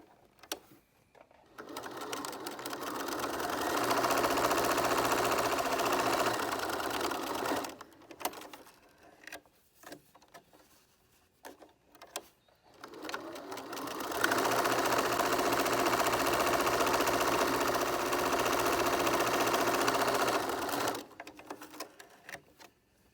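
A sewing machine top-stitches along the top and bottom edges of a fabric face mask, running in two long, steady, loud bursts separated by a pause with brief start-stop whirs.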